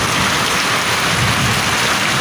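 Heavy downpour in a village drums steadily and loudly as a dense wash of rain, with low thunder rumbling underneath throughout.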